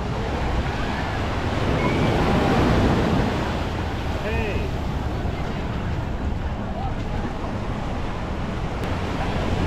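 Steady ocean surf washes continuously onto a steep beach at Waikiki, Hawaii, with wind buffeting the microphone and faint voices now and then.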